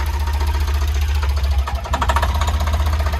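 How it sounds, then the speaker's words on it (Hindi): A Tata Intra V10 pickup engine, just repaired with a new timing belt and head work, runs after starting with a loud, close, rhythmic low chugging and clattering idle, no talking heard. "अरे वाह, तो देखिए फाइनली गाड़ी हो चुकी है स्टार्ट।"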